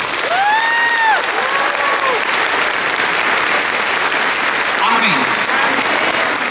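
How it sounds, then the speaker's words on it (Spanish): Congregation applauding at a Catholic church service, a continuous loud bed of clapping from many hands, with a few voices calling out and singing over it near the start. "Un aplauso para Madre de Dios."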